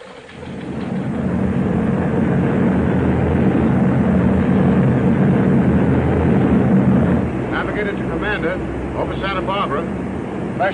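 Formation of heavy bombers from a 1941 war drama droning overhead, a loud steady rumble that swells in after a second and holds throughout, with faint radio-like voices and chirping sounds breaking in near the end.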